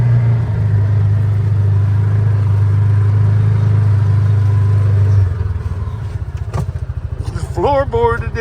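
A Massimo Knight 500 4x4 utility vehicle's engine drones loudly and steadily at full throttle, then drops to a lower, pulsing idle-like rumble, with brief squeaky whines near the end.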